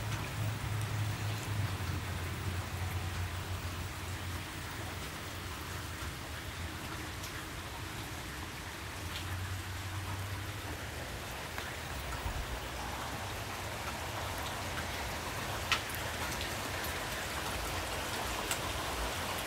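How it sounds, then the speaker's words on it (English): Steady rain falls outside, a dense continuous hiss of drops on surfaces with a faint low rumble beneath, unbroken and without voices. "Raining pretty good now. Hopefully you can hear it."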